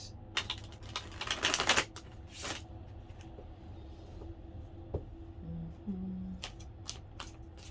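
Soft riffling and flicking of oracle cards being shuffled up close, a quick flurry early on then scattered light taps, fairly quiet.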